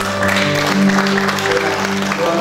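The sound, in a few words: applause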